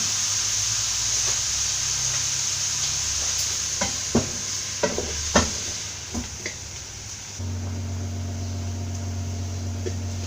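Papaya thoran, Kerala style, cooks in a pan over a low flame under a steady hiss and hum, with a handful of sharp scraping stirs clustered in the middle before it settles back to a quiet simmer.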